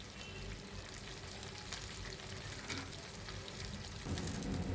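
Curry leaves fry in a pan for a spicy curry leaf chutney powder, giving a steady, dense sizzle with crackling throughout that swells a little louder near the end, with no voices.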